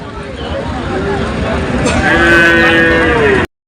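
A bull at a cattle market lets out a loud, long moo in the second half, close by, over background chatter and the hum of traffic, then cuts off.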